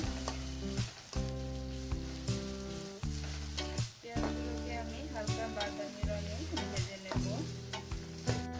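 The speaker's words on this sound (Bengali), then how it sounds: "এখন এই পেঁয়াজগুলোকে আমি ভেজে নিচ্ছি" Chopped onions fry in a pan with steady, loud sizzling while being stirred again and again, with no talking.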